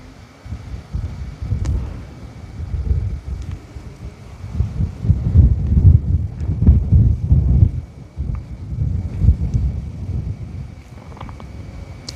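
Wind buffets the microphone outdoors as a low, uneven rumble that swells and fades in gusts, strongest near the middle and easing toward the end, with no voices.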